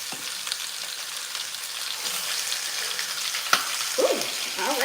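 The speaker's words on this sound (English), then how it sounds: "Ooh, alrighty, it's popping." Chicken frying in oil with a constant loud sizzle and scattered sharp pops and crackles throughout.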